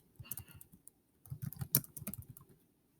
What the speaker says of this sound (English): I'm going to type in the new name for module 1.